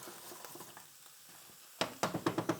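Butter being stirred into chanterelle mushrooms in a hot pan, with soft scraping and faint sizzle at first, then a run of sharper, louder stirring scrapes and taps near the end.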